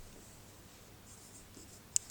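Pen scratching across paper while an English example sentence is written, a faint, steady scribbling that runs alone for about two seconds and ends with a small tap.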